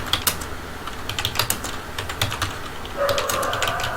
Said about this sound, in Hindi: इस तरीके से टाइप करते जाएंगे